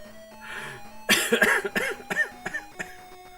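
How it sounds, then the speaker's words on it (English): A lingering allergy cough, a run of several separate coughs in quick bursts, close and fairly loud, with no talking. "With these allergies, I always seem to get this lingering cough."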